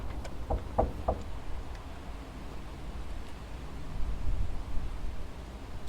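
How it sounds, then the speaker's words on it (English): Three quick knocks on a door at a cemetery during a night ghost hunt, near and fairly clear, followed by quiet outdoor background noise with faint rustling. "Could you tap on the door?"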